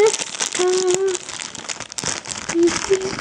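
Crinkling plastic packaging from a freshly delivered parcel being unwrapped, in close irregular bursts with a few brief rustles, while a person speaks over part of it.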